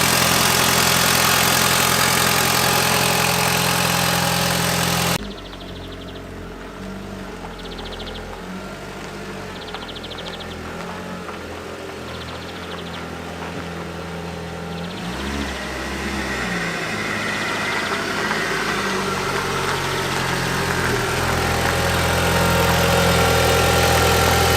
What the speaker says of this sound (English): we've got to bring the engine up to temperature